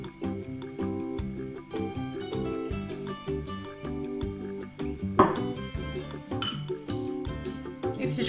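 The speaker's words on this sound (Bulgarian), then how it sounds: "Разбивам киселото мляко и при него добавям изтискания, изцедения лимон." Yogurt being whisked with squeezed lemon juice in a bowl for chicken soup, quick light metallic clinks and taps repeating in a steady rhythm, close and fairly quiet.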